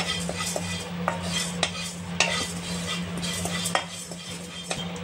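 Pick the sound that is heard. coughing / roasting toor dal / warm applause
roasting toor dal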